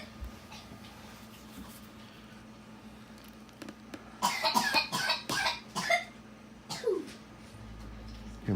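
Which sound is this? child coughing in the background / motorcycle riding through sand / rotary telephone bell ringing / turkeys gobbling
child coughing in the background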